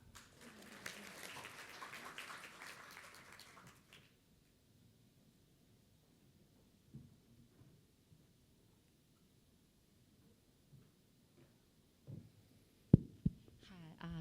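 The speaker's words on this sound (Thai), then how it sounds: "ขอเสียงปรบมือให้พี่นัทด้วยครับ" An audience at a policy seminar gives a short burst of applause for a speaker. The clapping lasts about four seconds and then stops abruptly, followed by near silence and a few faint knocks and handling noises.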